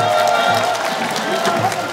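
Applause and crowd noise from an outdoor audience greeting the US Eighth Army military band at the Jinhae naval port festival's military music event, a steady dense wash of clapping with voices mixed in.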